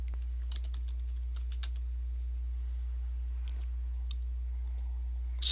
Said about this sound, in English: So type in that search term